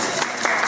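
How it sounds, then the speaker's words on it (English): Brief audience applause for two musicians at an early-music dance concert, a short steady patter of clapping heard alone. "Let's do a round of applause for Ian and Andrew."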